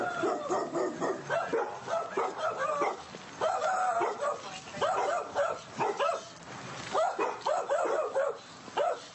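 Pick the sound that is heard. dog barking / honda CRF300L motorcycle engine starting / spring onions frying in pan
dog barking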